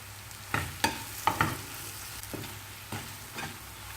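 Brinjal fries in a pan for kathirikai vathakkal, a soft steady sizzle broken by about half a dozen sharp spatula scrapes and knocks at uneven intervals as it is stirred.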